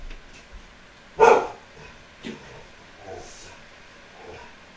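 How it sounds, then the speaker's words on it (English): A single loud, sharp yap from a small house dog, followed by a few fainter yips and quiet whimpers, heard alone indoors. "I don't know why my dog feels the need to yap every time he hears people talking outside."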